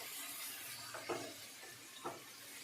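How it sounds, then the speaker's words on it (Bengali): Marinated chicken, coated in cumin, coriander and chili powder with mustard oil, fries in hot oil with a steady soft hiss and sizzle, broken by a couple of brief clinks of a utensil against the pan. "এভাবে করে চিকেনগুলো তেলের মধ্যে ভেজে নেব।"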